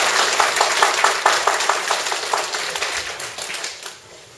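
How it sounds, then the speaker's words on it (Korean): An audience claps at a church symposium marking the 140th anniversary of a Catholic mission station in Korea, with steady, fairly loud applause of a moderate-sized crowd that tapers off toward the end. "큰 박수 부탁드리겠습니다."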